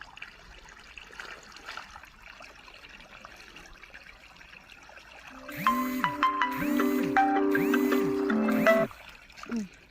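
Water trickles and flows softly in the background, then a loud, wavering tonal sound rises over it for the last few seconds.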